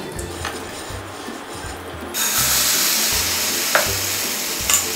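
Sweet dosa batter cooking on a greased griddle with ghee, a soft steady sizzle that grows louder partway through, with a few faint scraping touches, heard alone without talk.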